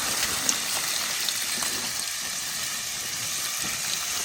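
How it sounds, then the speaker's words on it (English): Hose water spraying over a butchered Kunekune piglet during processing, a steady close hiss and splash of running water with faint intermittent taps. "get a hose and just start cleaning them"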